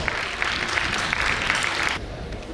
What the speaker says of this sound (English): Let's welcome him with the loudest applause.